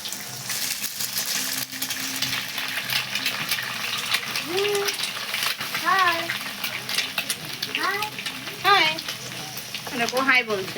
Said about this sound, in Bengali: তো দেখো এই কড়াইয়ের মধ্যে চলে গেল ডিম। এখন ডিমটা ঝুরঝুরে হবে